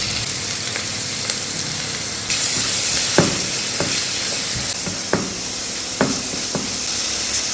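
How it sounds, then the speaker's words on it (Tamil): Squid and prawns stir-frying for nasi goreng, a steady loud sizzle with sharp pops and crackles bursting out at irregular moments, close by, with no talk. "கனவா வெடிக்கு படக்குது."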